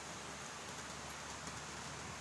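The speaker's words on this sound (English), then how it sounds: "Oh, lakas ulan sa labas." Heavy rain falls outside, a steady broadband hiss that stays fairly quiet and even throughout, with no voices over it.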